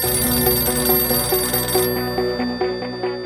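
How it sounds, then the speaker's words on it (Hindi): A telephone rings with a repeated electronic trill, several evenly spaced bursts, loud and close with no voices over it. "मेरा फोन आता ही"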